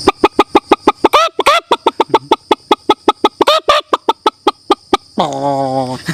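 A voice imitates farm animals, including a rooster, in a fast, rhythmic run of sharp clucking pulses broken by two rising crowing calls. The sequence ends on a long, wavering crow, loud and close.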